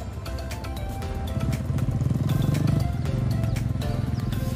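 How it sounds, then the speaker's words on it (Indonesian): A trail motorcycle engine labours up a rocky stone road between Cianjur and Cijati-Sukabumi, a steady near drone that swells and pulses louder midway, with faint clatter and no talk. "motor gunung."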